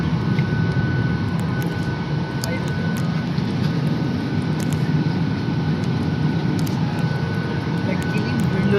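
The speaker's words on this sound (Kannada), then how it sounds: "ನಾನು ಇವಾಗ ಫ್ಲೈಟಲ್ಲಿ ಇದ್ದೀನಿ ಅಂತೇಳಿ" Inside the cabin of a nearly empty passenger plane flying from Benin to Gabon, a constant broadband engine and air roar drones without letup from a window seat, with faint ticks on top.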